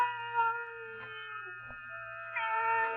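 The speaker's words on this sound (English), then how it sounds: "Then the silence was broken by the faint crying of one cat." A cat cries in a long, wavering meow for a radio drama, rising and falling in pitch with a sustained tonal wail over a low steady hum.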